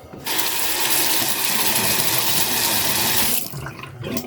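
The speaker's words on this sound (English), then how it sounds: "Let's rinse off." Water from a tap gushing loudly and steadily for about three seconds while a disposable razor is rinsed, then cutting off into a few quieter splashes and clatters.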